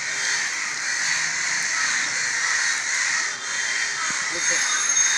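Crows caw repeatedly over a steady, noisy outdoor background, with people's voices faintly mixed in throughout.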